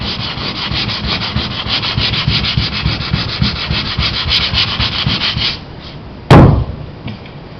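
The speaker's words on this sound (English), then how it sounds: "So then you want to sand it." Steady rhythmic rubbing of sandpaper on a Laser sailboat hull under repair runs close and loud for about five seconds, then stops, and a single sharp knock or slam follows.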